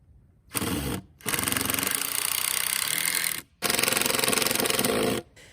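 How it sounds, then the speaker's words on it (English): An impact driver hammers away in two long loud bursts of rapid rattling, separated by a brief pause, fastening screws into stubborn wood for a raised garden bed. "Even with an impact driver, you need a bit of grit to drive screws through stubborn wood"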